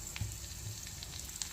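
Mustard seeds, cumin, garlic and dried chilli sizzle in half a spoon of hot oil for a tomato chutney tempering, a steady, quiet frying hiss with a few soft pops and no talking.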